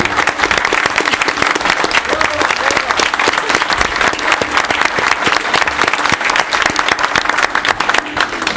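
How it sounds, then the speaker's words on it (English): A crowd at a town council meeting gives a gymnastics team a loud round of applause, dense continuous clapping close and steady for over eight seconds. "we're going to stop right there and give you a round of applause"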